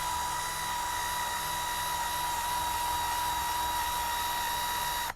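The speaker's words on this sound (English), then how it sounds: "So just about 30 or 40 seconds of wire wheel work just around this shock mount hole here" A wire wheel grinds rust and scale off an old, rusty motorcycle swing arm around the shock mount hole, a loud steady high-pitched whir running unbroken for about five seconds before cutting off abruptly at the end.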